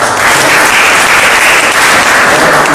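Loud, dense applause at the closing remarks of Presbymania 2013, a crowd clapping steadily and evenly throughout with no breaks or voices.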